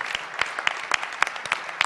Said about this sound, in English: So let's just give them one more round of applause